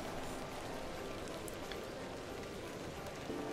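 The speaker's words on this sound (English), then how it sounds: "Oh, it's raining again, yeah." Rain in the video game The Excavation of Hob's Barrow falls in a dense, steady patter. It stays soft and continuous with no voices over it.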